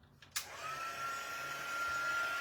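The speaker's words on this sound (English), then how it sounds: "and watch what happens when you take your heat tool" A handheld heat tool for warming Pilot fusion pins clicks on and spins up into a steady, close, hissing rush of hot air with a thin whine that holds to the end, with no voice over it.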